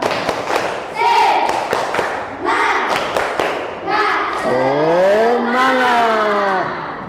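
A school class claps out a rhythmic clapping pattern in short bursts during an ice-breaking activity, interleaved with children's chanting voices. The claps are loud, close and sharp.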